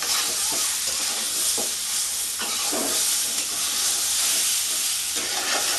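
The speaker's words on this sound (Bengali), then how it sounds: "আমি জল দিয়ে দেবো" Water poured onto raw mango frying in a pan for chutney, giving a loud, dense, steamy sizzle throughout, with occasional stirring scrapes close by and no talk.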